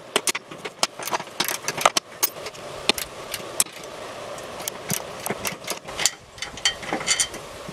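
Socket wrench backing deck spindle bolts out of a Husqvarna YTH22V46 yard tractor, with rapid ratchet clicks in repeated bursts and sharp metallic ticks, close and fairly loud.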